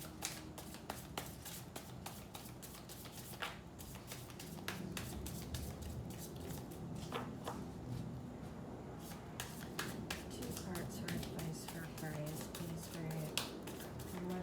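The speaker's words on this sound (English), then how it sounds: "Shuffle and take the top and bottom." Tarot cards being shuffled by hand, a quiet run of soft riffling and sharp flicks in irregular bursts, close up, with occasional faint speech.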